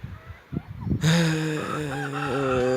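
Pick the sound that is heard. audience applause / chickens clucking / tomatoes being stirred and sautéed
chickens clucking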